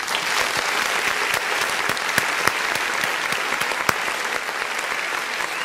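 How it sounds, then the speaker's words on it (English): An audience claps steadily and loudly through the whole stretch, dense and even with a few sharper single claps standing out, and no voices over it. "Can we get a round of applause"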